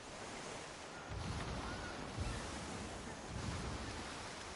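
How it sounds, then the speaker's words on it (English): Choppy ocean water crossing the Indian Ocean in Skull and Bones: a steady wash of surf and wind, with swells rising and falling in soft waves, no talk over it. "If you go across the Indian Ocean, it gets a little bit choppy."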